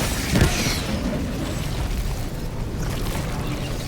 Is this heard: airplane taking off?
no